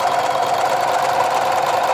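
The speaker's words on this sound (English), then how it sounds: "I'm not pulsing the sewing machine either, so that as it goes through everything, it's remaining steady and it's not sort of jerking." An overlocker sewing machine stitches jersey fabric at a steady speed, a continuous close whirring hum without pauses or pulsing, and no voices.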